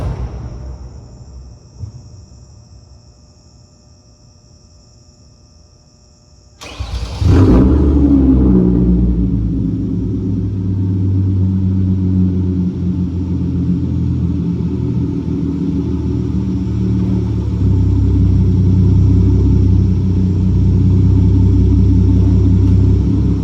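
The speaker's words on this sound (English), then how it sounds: "I'll just do a cold start, or not a cold start, a warm start for you guys. So you can hear it" A warm 2013 Hyundai Genesis Coupe 3.8GT engine is quiet at first, then cranks and fires abruptly about six seconds in, flaring loud before settling into a steady, rumbling idle heard up close.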